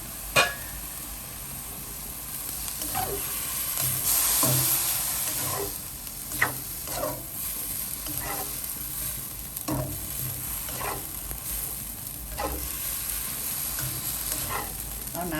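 Noodles stir-fried in a pan for Thai pad see ew, pressed flat with a spatula, giving a constant sizzling hiss punctuated by repeated scraping strokes at a steady, irregular rhythm, close up with no talking.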